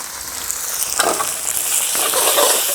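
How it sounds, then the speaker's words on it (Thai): Glass noodles with cha-om and egg stir-fried in a hot pan over medium heat give a steady close sizzle, with scraping stir strokes near one and two seconds. "ผัดนะครับ"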